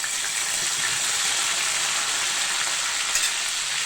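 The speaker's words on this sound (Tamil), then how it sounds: "தேங்காய் எண்ணெயில் பொரிச்சு நல்லா வாசமாக இருக்கும் கொஞ்சம் கருவேப்பிலை சேர்த்துக்கலாம்" Curry leaves crackle and sizzle in hot coconut oil on a dosa griddle, a loud, dense and steady frying hiss that runs unbroken from start to end with no voices.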